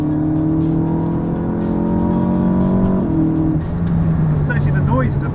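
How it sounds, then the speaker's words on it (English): Turbocharged inline-four of an Alpine A110 pulling hard from the passenger seat, a steady rising engine drone that drops at a gearshift near the middle and builds again, loud and close, with a faint squeal near the end. "the noise is a pleasant surprise because there's only so much you can do with a turbocharged inline 4"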